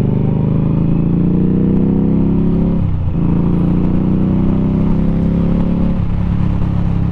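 Indian Scout mid-size cruiser motorcycle rounding a roundabout, its engine droning loud and steady with dips in pitch as the rider rolls off and back on the throttle, close and continuous throughout.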